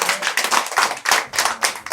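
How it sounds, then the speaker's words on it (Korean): An audience at a Korean Buddhist temple lecture claps again, close and loud, with sharp, irregular bursts of hands that swell and dip in uneven waves. "박수 한 번 더 보내주세요"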